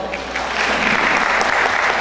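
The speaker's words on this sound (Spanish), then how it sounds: "Un aplauso, por favor." Audience applause at a legal lecture after a speaker introduction, a steady dense round of clapping that swells slightly and holds at moderate loudness throughout, with no talking over it.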